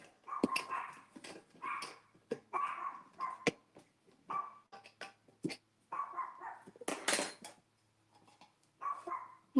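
Dogs bark again and again in quick, uneven bursts, loud and close, with brief pauses between volleys and no talking.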